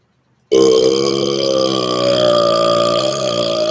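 A single loud, sustained burp starts abruptly after a moment of silence and rumbles on for about three seconds with a strong, steady tone, close to the mic and with nothing else heard.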